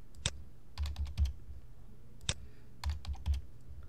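Keys on a computer keyboard are tapped in two short bursts of quick clicks, close and quiet, while margin numbers are entered in Microsoft Word.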